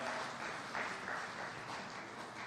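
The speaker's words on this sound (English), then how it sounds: "please let's recognize them with a warm clap" An audience at the launch of the Kenya Young Parliamentarians Association strategic plan in Nairobi claps for the young MCAs, a continuous even patter of many hands, fairly quiet and somewhat distant, with no voices over it.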